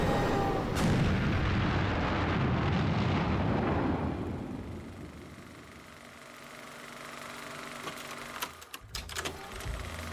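A real train blows up for a North Korean film scene, a loud roaring blast rumbling heavily at first, then fading into a long, low decaying rumble with scattered crackles near the end.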